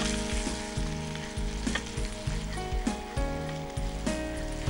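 A tablespoon of boiling spice mix sizzles in hot oil in a pan for dal tempering, stirred steadily with repeated scraping strokes over a continuous close, loud fry with no talk.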